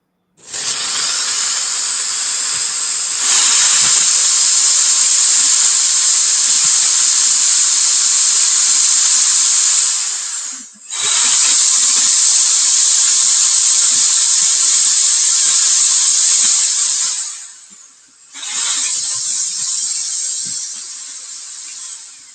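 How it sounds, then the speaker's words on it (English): A power drill pre-drills holes for a table leg in a close, loud whine that runs in three long bursts, with two brief pauses where the motor stops and then starts again. "I'm pre-drilling these dang on holes that for the leg"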